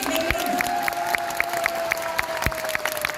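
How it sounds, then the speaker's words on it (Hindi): A seated audience at a sales-seminar gathering claps together, a steady dense patter of many hands with a few sharper individual claps standing out, while a faint sustained tone hums underneath throughout. "अब तालियां बजेगी"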